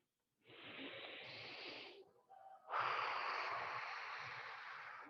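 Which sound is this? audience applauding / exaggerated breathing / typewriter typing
exaggerated breathing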